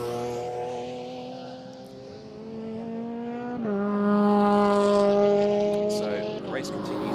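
Mazda MX-5 race cars at Snetterton circuit give a steady engine drone with rising and falling pitch, one car's note shifting as it passes, heard under continuous commentary.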